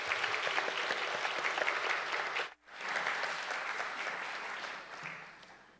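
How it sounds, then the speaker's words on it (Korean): An audience at a university president's inauguration ceremony applauds in a dense, steady roar of many hands, briefly dropping away mid-way before swelling again and slowly fading. "우리 큰 박수로 환영해 주시기 바랍니다."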